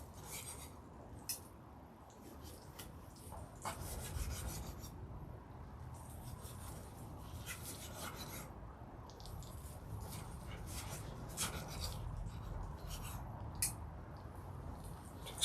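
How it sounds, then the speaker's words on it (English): A knife slices into rested char siu pork cooked on a Ninja Woodfire Grill, giving a series of close, soft rasping and scraping strokes in irregular bursts over low background noise. "I think it's about time we cut into it."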